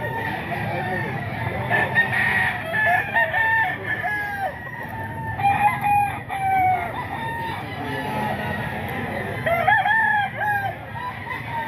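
A fighting cock about three years old, offered for sale at a busy fowl market, crows loudly and repeatedly up close with short clucks in between, over a constant hum of other birds and crowd noise, with people talking in the background.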